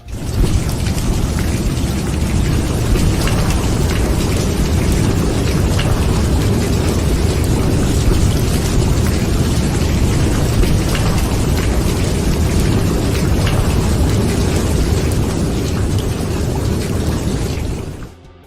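A thunder and rain sound effect: a loud, dense, continuous roar of heavy rain with low rumbling underneath, sustained without a break before fading out at the very end.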